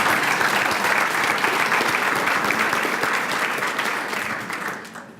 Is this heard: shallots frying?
no